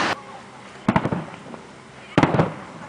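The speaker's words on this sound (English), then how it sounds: "Disney fireworks." Fireworks at a Disney resort burst in two loud clusters of crackling pops about a second apart, with a quieter crowd murmur underneath.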